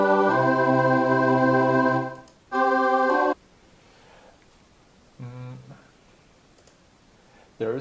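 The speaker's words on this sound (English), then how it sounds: "then you'd have a very typical 1-5-1 cadence" Sustained harmonic tones sound out a three-chord 1-5-1 cadence, built from soprano, tenor and bass clausulae in the manner of Gregorian modes: two long chords, a gap, then a softer final chord.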